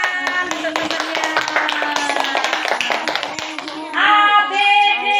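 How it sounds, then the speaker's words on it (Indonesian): Classmates in a fourth-grade primary school classroom clap for a fellow student, a busy patter of hand claps mixed with children's voices, swelling louder near the end. "tepuk tangan untuk temannya."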